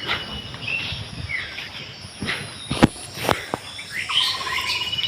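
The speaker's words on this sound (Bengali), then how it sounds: "পাখিরা কত সুন্দর কিচিরমিচির করছে" Birds chirp and tweet in a garden on a morning, bright calls scattered across the clip with a few sharp clicks and faint insect buzz, no talking.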